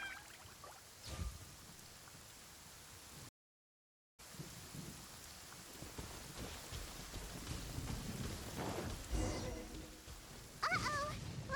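Steady rain with rumbling thunder in a Genshin Impact lightning storm, a constant hiss of rainfall with low rolls of thunder; a brief silent gap interrupts it, and voices speak over the storm.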